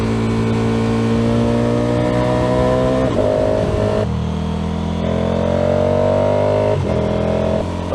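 A motorcycle fitted with a modified airbox revs hard while riding, its loud engine note climbing steadily in pitch and then dropping briefly at each gear change, about three shifts in eight seconds, close and continuous.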